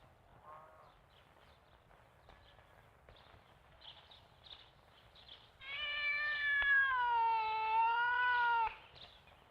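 A cat in a 1989 Hindi children's film gives a short faint mew early on, then a long, loud, drawn-out meow of about three seconds near the end over quiet room background.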